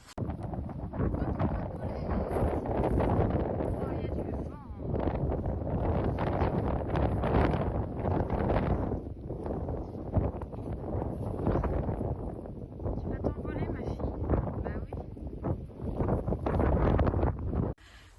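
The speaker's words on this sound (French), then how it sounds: "Mais alors, du vent, ça souffle vraiment fort" Strong wind roars steadily across the microphone at horse stables, a loud continuous buffeting rush with gusts rising and falling throughout.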